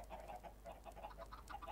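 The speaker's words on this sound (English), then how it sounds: "We have one chicken here and" Minecraft chickens clucking in a modded game, a steady run of soft, quiet clucks repeating through the scene with no talk.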